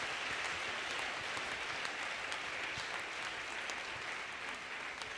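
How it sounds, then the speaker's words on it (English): Church congregation clapping steadily together, a continuous dense wash of hands that holds at an even, moderate level throughout, with no speech over it. "hand clap for the Lord."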